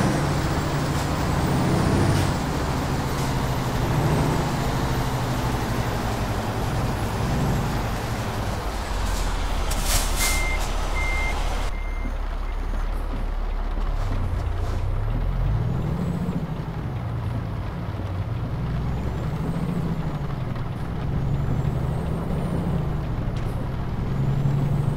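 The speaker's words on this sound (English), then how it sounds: "Listen to these trucks." Trucks rumble through American Truck Simulator traffic, with a sharp air brake hiss and brief tonal beeps partway through over a continuous low engine drone.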